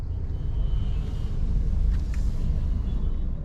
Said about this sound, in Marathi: रविवार असल्यामुळे खूप ट्रॅफिक. उजव्या हाताला वळायचं आहे पण ट्रॅफिक भयानक आहे.